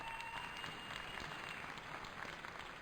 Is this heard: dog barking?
no